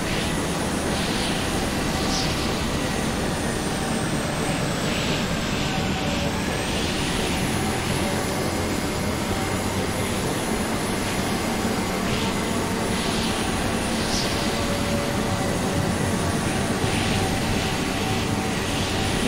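An aircraft engine drones steadily and continuously in the Carrier Command 2 video game, a broad airy roar with a faint recurring whine, holding constant throughout with no speech.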